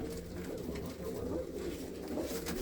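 Pigeons coo continuously in a low, throaty murmur, several birds overlapping in a dense, steady chorus that fills the space close by, without any voices.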